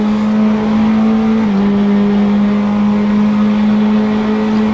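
In the Assetto Corsa video game, a Praga R1 race car's engine drones loud and steady at high revs through a qualifying lap at Barcelona, with one brief pitch dip at a gear change.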